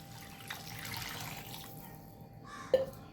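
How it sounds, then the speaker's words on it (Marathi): Hot water poured into a pot of mixed vegetables and peas, a soft steady stream splashing for a few seconds before a brief clink near the end, heard up close without talk. "त्यात मी हे पाणी टाकते गरम"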